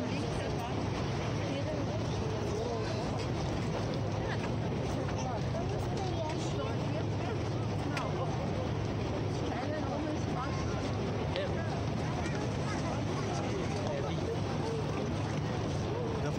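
Dhow cruise boat out on the water at night in Dubai Marina, a steady low engine drone and water wash with wind buffeting the microphone, continuous throughout with faint voices in the background.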